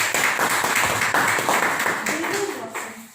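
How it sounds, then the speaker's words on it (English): A club audience at a public speaking meeting gives a round of applause, dense clapping filling the room and slowly tapering off, with some voices murmuring underneath. "a huge round of applause"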